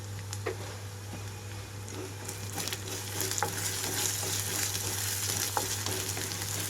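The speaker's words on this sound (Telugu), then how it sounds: "అల్లం వెల్లుల్లి పేస్ట్ పచ్చివాసన పోయే వరకు వేయించుకోవాలి" Ginger garlic paste fries in a hot pan with a steady, even sizzle, and occasional light stirring clicks and scrapes sound over it throughout.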